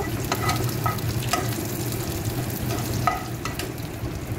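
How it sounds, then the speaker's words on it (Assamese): Onions sizzle in hot oil while a spoon stirs and scrapes the pan several times, crisp and close. "এই পিঁয়াজকেইডোখৰ আপোনালোকে এনেকৈ ভাজিব"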